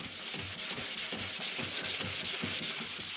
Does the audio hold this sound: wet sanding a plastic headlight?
yes